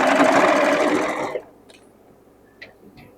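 A sewing machine stitches close along the edge of a hem on a blue halter dress, its fast, steady whirring run heard loud and near for just over a second before it stops, leaving faint handling clicks.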